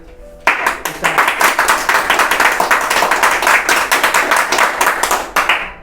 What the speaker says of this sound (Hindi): तालियों के लिए शुक्रिया।